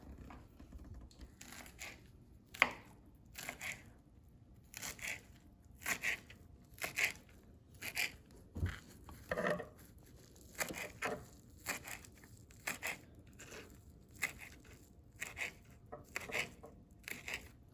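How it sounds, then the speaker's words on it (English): A knife minces rolled-up fresh cilantro on a cutting board, repeated crisp chopping taps in an uneven rhythm of short bursts, close and fairly quiet. "I'm gonna take my cilantro and I'm gonna mince this as fine as I can"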